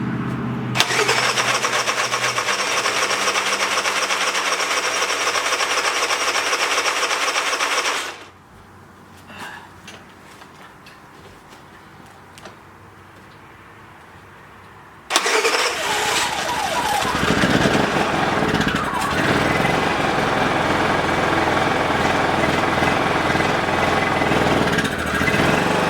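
A Polaris snowmobile engine cranks and catches, running loud and steady for about eight seconds, drops away to a quiet pause, then roars back up and runs hard with revving and rough mechanical clatter.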